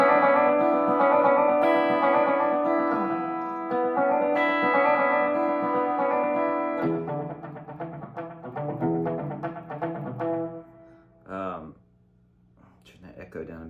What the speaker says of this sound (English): Turn that echo down a bit.